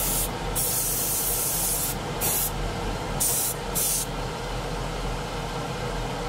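Close, steady hiss of spray paint applied in heavy blasts to the wing roots of a model Phantom aircraft, continuous with brief pauses in the highest hiss and no talking.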